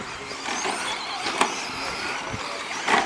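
Modified short course race cars run on the Dirt Hills Raceway dirt track, a fairly distant engine drone rising and falling as cars pass, with a couple of brief louder bursts.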